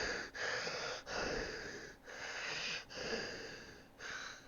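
Heavy breathing heard over a phone call, several loud close breaths in a regular rhythm with short gaps between them, harsh and slightly wheezy, with no talking.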